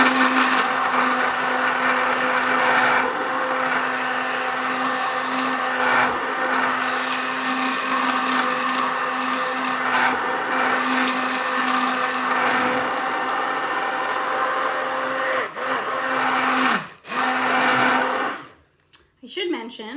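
A blender whirs steadily at high speed, emulsifying homemade Caesar dressing with garlic. Its loud even drone runs for most of the clip, then stutters and cuts out near the end, with voices audible at times.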